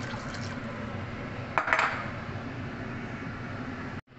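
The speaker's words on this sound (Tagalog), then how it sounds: "lagyan natin ng tubig" Water pours into a pot of blended corn soup as a steady, close rushing flow with a brief clink of the pot partway through, then stops abruptly.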